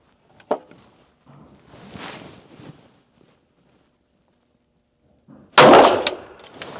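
A Sig Sauer P365 Rose pistol in .380 fired at a shooting range: one sharp crack early on, scattered duller bursts, then a loud cluster of blasts near the end, close and echoing, with no talk.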